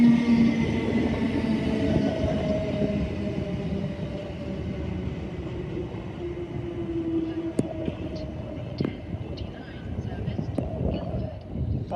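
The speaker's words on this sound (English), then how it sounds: "Arriving in now on platform 8 is the 10:49 South Western Railway service to Guildford. Formed of 455-718." A South Western Railway Class 455 electric train arrives at a station platform, giving a continuous loud rolling rumble with a whining tone, then sharp clanks and squeals as it slows, alongside talk.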